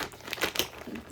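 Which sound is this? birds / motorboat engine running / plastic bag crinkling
plastic bag crinkling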